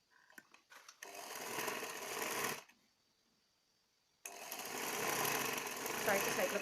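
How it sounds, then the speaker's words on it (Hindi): Sewing machine running in two bursts of steady stitching along the side seam of a lehenga, with a brief pause between runs; the machine sounds close and fairly loud. "इसके बाद इसकी साइड की सिलाई लगाएंगे"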